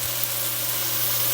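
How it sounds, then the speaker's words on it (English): Olive oil hitting a hot pan while cooking turkey quinoa meatballs, a steady soft sizzle with a low constant hum beneath, running evenly throughout without talk. "let's go ahead and add 1 tablespoon of olive oil"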